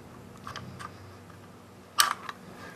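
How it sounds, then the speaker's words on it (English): Metallic clicks and a sharp slide-and-clack as the bolt is pulled out of a Sterling 9mm rifle, a few faint close taps followed by one louder snap, in a quiet room. "And you bring the bolt all the way out."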